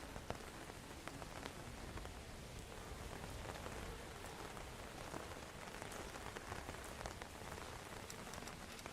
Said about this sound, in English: She sent us rain.